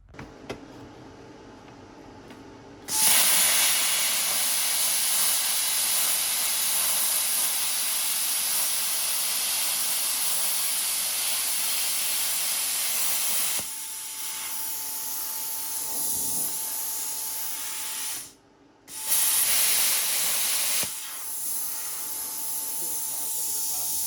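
A plasma cutter hisses loudly and steadily at close range for a long stretch, with brief pauses and a short break before cutting resumes.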